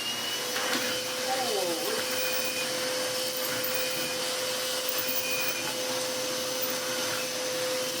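A Hoover Constellation vacuum cleaner fitted with a Dyson flat out tool runs steadily and close by, making a constant airy roar with a thin sustained whine over it.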